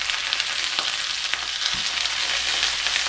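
Shrimp dropped into a hot pan with garlic and red pepper, crackling in a continuous close sizzle with a couple of sharper spatters and a light stir, no voices.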